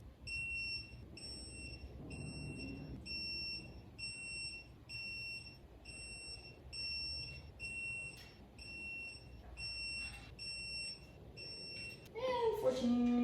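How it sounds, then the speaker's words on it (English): A digital torque wrench tightening a 2JZ engine's cylinder head bolts gives a regular series of high, evenly spaced electronic beeps, with quiet workshop noise and brief voices near the end. "Ready for the beeps?"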